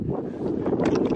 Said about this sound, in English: Wind's picking up now.